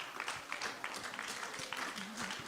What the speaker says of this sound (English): give our Honorable Prime Minister a rousing round of applause